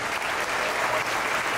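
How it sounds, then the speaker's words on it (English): Audience members at a bodybuilding seminar held at an NPC and IFBB Professional League event in Miami give a brief, steady round of applause, even and unbroken, with no talking over it. "So I think she deserves a round of applause for that."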